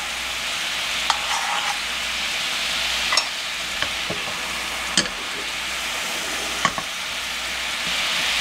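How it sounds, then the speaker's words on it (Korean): Soy sauce and a spoonful or two of water bubble and sizzle with dried squid strips in a pan, a steady close frying hiss with small pops and occasional stirring clicks, no voices. "물은 한 두 스푼 정도 이렇게 바글바글 끓일게요"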